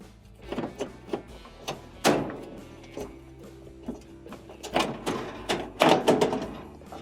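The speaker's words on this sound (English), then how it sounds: "With the screws removed, lift up and pull out on your cooktop." A Samsung stove's cooktop is lifted up and pulled out, giving a string of close clicks, taps and hollow clunks with one heavier knock partway through. No one talks.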